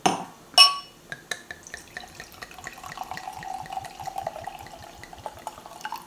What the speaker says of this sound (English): Let's pour a glass of wine.